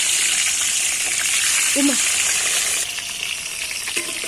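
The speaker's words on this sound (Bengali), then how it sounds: "এখন এই ডিমগুলো তেলের মধ্যে ছেড়ে দিলাম" Eggs seasoned with salt and turmeric drop into hot oil in a home kitchen, producing a bright, continuous hiss that softens partway through, with a faint voice briefly in the background.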